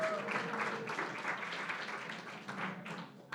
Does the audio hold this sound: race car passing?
no